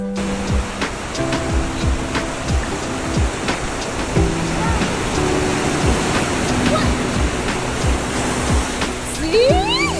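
Steady roar of ocean surf on a beach with waves washing in continuously, loud and close, with faint voices mixed in.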